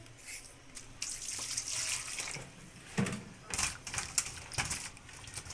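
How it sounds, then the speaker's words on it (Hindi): Potatoes are washed under a running kitchen tap, a close, steady stream of splashing water with bursts of louder rinsing and handling, and no talking. "अच्छे तरीके से इनको धो लें।"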